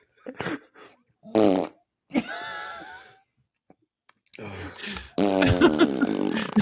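A few short blurting fart-like noises stand out between bursts of talk and laughter, the last one a loud rasping squeal that runs into a burst of voices.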